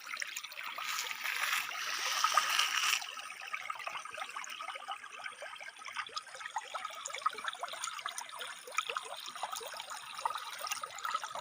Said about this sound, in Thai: น้ำไหลงามทุกคนเลย